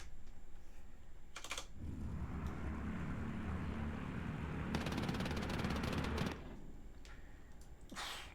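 A Battle of Britain fighter's aircraft engine drones at half throttle in the Scramble video game, a steady low rumble faint in the mix, broken by bursts of rapid machine-gun fire.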